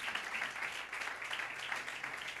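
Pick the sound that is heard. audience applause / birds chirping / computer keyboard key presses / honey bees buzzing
audience applause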